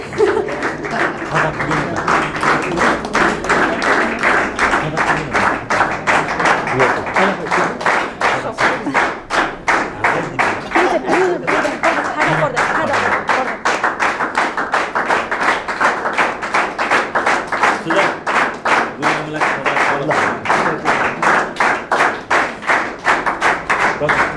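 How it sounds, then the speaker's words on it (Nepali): A studio audience claps loudly and steadily at a special TV program celebrating its 100th episode, dense applause sustained evenly throughout with no pauses. "तपाईँहरूको तालीको चाहिँ एकदमै फ्यान भएँ म चाहिँ"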